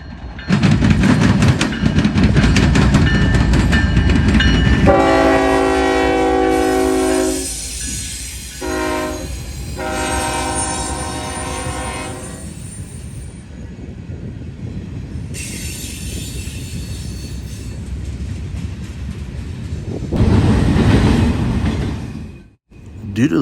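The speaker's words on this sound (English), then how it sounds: "This train was today's 179 as he had come out of Bellevue earlier in the morning." Freight train 179 passes in Marion, Ohio, horn blaring in long blasts over a steady rumble of rolling wagons and wheel noise. The train is loud and close throughout, with squeals and clatter.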